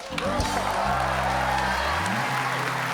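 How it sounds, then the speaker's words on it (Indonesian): A studio audience on a television show applauds for a performer, broad and steady clapping over low, sustained background music tones. "Tepuk tangan buat Romi Katepel"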